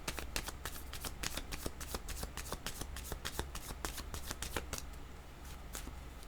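Tarot cards being shuffled in rapid, crisp riffles, a steady flurry of papery flicks and snaps close by, with no talking.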